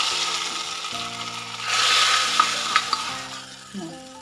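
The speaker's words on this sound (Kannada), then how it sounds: "ಈ ಒಂದು ಟೈಮಲ್ಲಿ ನಾವು ಮಾಡಿರೋಂಥ ಒಗ್ಗರಣೆನ ಇದಕ್ಕೆ ಸೇರಿಸ್ಕೊಳ್ಳೋಣ" Oggarane tempering hits boiling Andhra-style pappu dal, a loud sizzling burst swelling midway over stirring scrapes and a few sharp pops, then easing off near the end.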